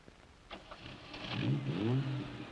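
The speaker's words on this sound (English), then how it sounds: "Triumph contrived this demonstration to show you how fast the Triumph TR6 stops, shifts, and turns." A Triumph TR6 sports car accelerates and shifts gears, its engine note rising, dropping at the change and climbing again, growing louder toward the middle of the short pass after a few faint clicks.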